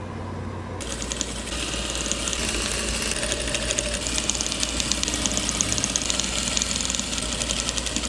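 A sewing machine runs continuously close by, stitching a seam along the side of fabric being formed into a tube for a patchwork placemat, with a rapid, steady mechanical clatter and no talking.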